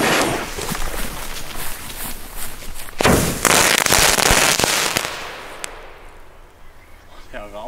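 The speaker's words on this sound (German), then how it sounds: "Jetzt gibt's 3 Explode Big Balls auf Schlag." Three Explode Big Balls firecrackers go off together in one loud, sharp outdoor blast, followed by crackling debris and fading rumble as the smoke clears; scattered thuds and other bangs come before it.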